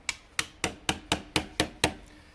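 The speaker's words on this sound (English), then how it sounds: "So we'll just tap those knock-ins in with my trusty hammer and my trusty dolly." A hammer taps knock-ins into a weatherproof outlet box backed by a dolly, eight sharp metallic knocks in an even, quick rhythm, close and clear with no talk.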